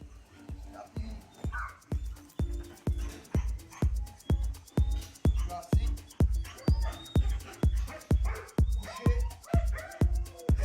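A dog gives a long run of regular, evenly spaced barks, loud and close, about two per second, with faint whimpering between them.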